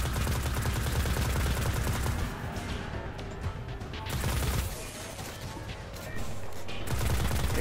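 Heavy-recoil gunfire in the video game Destiny, loud, sustained bursts of shots with brief lulls, dense and continuous throughout.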